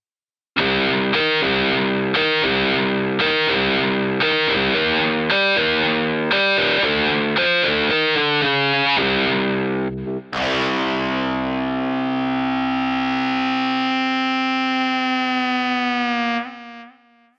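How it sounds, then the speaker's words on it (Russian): A Casio CT-S1000V keyboard plays its electric guitar voice, distorted chords chugging in a rapid rhythmic pattern before a long sustained ringing chord that slowly fades, loud and alone. "Электрогитара."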